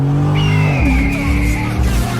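A Corvette Z06 at a car meet blips its engine on a downshift, a loud close rev that drops in pitch then hangs at a high idle.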